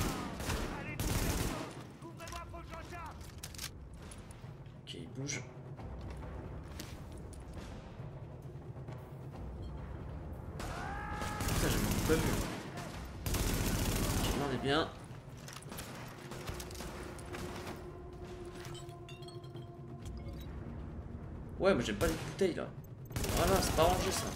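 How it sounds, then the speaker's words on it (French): Gunfire from a rooftop in The Division breaks out in scattered bursts of shots over continuous talk, with heavier clusters of shooting several times, moderately loud and somewhat distant. "Je suis des tirs en provenance du toit."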